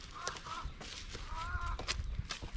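Chickens in an outdoor yard cluck and call in short, moderately loud bursts, resting in the shade, with scattered rustling and light background noise throughout.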